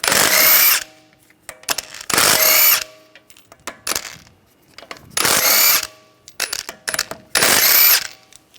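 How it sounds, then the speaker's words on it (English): An impact or power wrench with a 17mm socket spins lug bolts off a BMW 328i xDrive wheel. Four loud, close bursts of whirring ratchet come at regular intervals, with small metallic clicks and clatter between them. "use a 17mm socket, take the lug bolts out."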